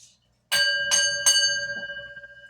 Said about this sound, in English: I've also got my bell.